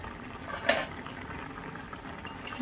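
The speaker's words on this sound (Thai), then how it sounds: "ปิดฝา อืมเดือดแบบนี้แล้ว" Pork belly and bamboo shoots bubbling in a covered pan, a low steady simmer with a single brief clink of the pan near the start and another at the very end.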